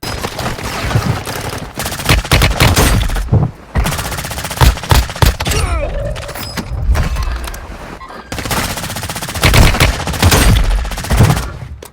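Automatic gunfire from the mobile shooter game Warzone Mobile, with loud, dense bursts of rapid fire and booming shots repeating through a hectic firefight, broken by a few brief pauses.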